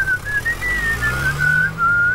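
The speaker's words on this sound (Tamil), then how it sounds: "என்னடா விசில் அடிச்சுட்டா வர?" A man whistles a single wavering, sliding tone, loud and close over a low background rumble, with no talking.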